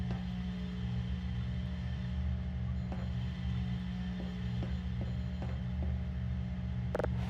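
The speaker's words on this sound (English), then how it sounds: "A little elevator ride." Elevator ride in a Resident Evil Survivor mod: a steady low mechanical hum and drone, with soft periodic clicks and creaks ticking through it and a sharper rattle near the end.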